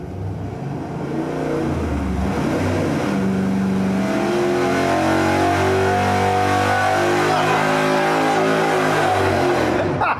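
A car engine with dented, bashed exhaust headers revs loudly on a dynamometer test, holding a sustained, rising roar throughout with a harmonic whine climbing in pitch.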